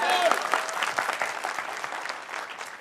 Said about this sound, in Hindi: तो ताली बजना चाहिए ना?